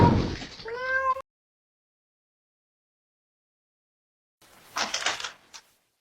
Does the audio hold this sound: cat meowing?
yes